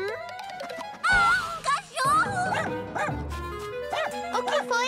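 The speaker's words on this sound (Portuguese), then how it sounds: "Cachorro!" A cartoon dog in the animated Cry Babies Magic Tears series barks and yips in short excited bursts over lively music and sound effects, with voices talking around it.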